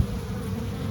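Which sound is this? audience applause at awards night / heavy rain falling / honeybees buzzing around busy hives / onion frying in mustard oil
honeybees buzzing around busy hives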